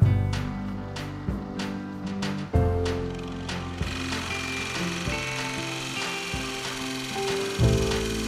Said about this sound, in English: use my Forstner bit on the drill press